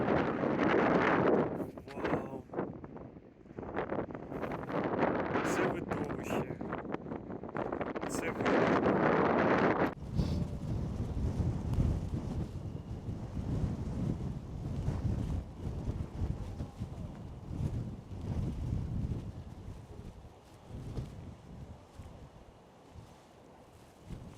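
Heavy ocean-side gusts in Lagos, Portugal buffet the microphone with rumbling roars throughout, while a voice talks under the wind noise.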